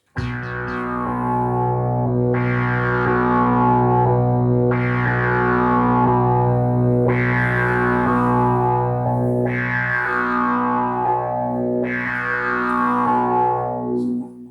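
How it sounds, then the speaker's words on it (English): A buzzy analog Moog synthesizer repeats a sequence of bright, swelling notes over a sustained low drone, each phrase rising and decaying in a regular pattern. "it has a Moog type of sound that sounds something like this at the beginning"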